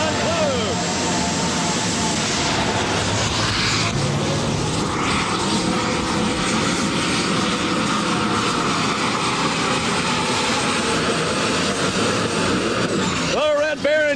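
A 1989 NTPA International Harvester super stock pulling tractor with turbocharged engine roars loudly and continuously at a tractor pull in Hildreth, Nebraska, under an announcer's voice and crowd noise.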